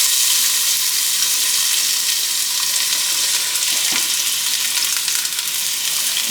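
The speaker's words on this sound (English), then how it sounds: "So I'm going to let this onion stay here for a couple minutes and saute." Chopped garlic and onions saute in olive oil and butter for a lamb stew, giving a steady, close, loud sizzle with no pauses and no talk.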